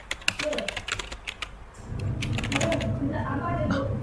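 Fingers tap out a name on a computer keyboard, a quick run of close, crisp key clicks that gives way to a louder steady background hum.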